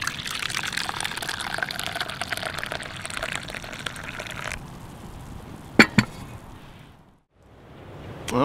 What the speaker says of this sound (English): Pour a nice cup of coffee here.